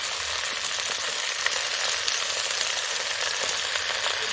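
Chopped, freshly washed Malabar spinach (pui) hisses in a hot pan with a loud, dense, continuous sizzle and crackle, steady throughout.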